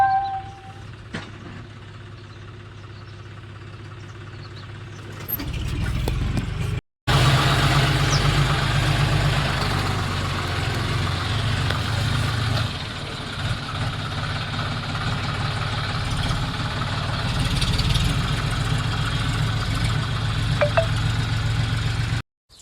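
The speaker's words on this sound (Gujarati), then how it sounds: "ટ્રેક્ટર બેઠા" Starting from a quiet background, a tractor engine kicks in partway through and then runs at a steady, throbbing idle close by, with no talking.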